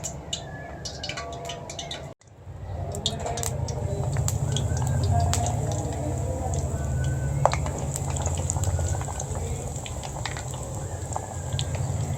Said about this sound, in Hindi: अब इन्हें फ्राई करते हैं।